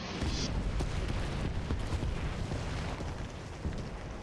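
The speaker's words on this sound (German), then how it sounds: "Die knallen hier die Artillerie raus." Artillery fire and explosions in the tank battle video game War Thunder, a dense, continuous rumble of booms and blasts at steady loudness with no clear pauses, without talk.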